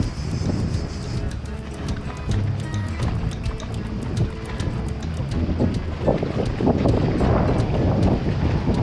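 Wind gusting at a beach on Hvar island, Croatia, a loud buffeting rumble against the microphone that rises and falls throughout, with scattered clicks and some background voices.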